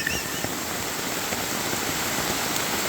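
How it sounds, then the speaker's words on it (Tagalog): Steady rain hisses outdoors beside a river, a dense, even wash of noise with no pauses and no talk. "Naku naman ang ulan!"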